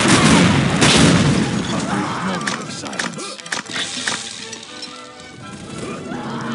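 Gunshots and heavy impacts in Unreal Tournament 2004, several loud booming shots in the first seconds and then scattered cracks amid busy game noise, with in-game voices talking over parts of it.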